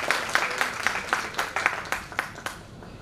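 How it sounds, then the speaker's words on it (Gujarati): Applause from an audience at a public awareness programme greets a doctor taking the stage, with brisk, fairly faint clapping in an irregular burst. "એમને આપણે જોરદાર તાળીઓથી આવકારીએ અને સ્વાગત કરીએ."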